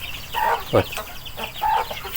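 Chickens, young and grown birds penned together on a farm, give several short clucks and calls at feeding time, close by, in bursts over a quiet background.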